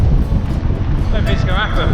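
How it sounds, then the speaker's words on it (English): Strong wind gusts roaring across the exposed granite of Feather Tor on Dartmoor's high moor, a loud continuous low rumble buffeting the microphone, with a voice talking faintly over it. "I'm just waiting for the wind to die down."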